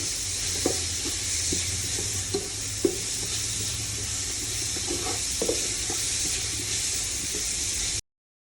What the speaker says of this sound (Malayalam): വെളുത്തുള്ളി, പച്ചമുളക് ചതച്ചത് നമ്മളതിലോട്ടിട്ട് 2 തണ്ട് കരിവേപ്പിലയും കൂടെ അതിലിട്ട് നല്ലൊരു ഗുണം വഴറ്റണം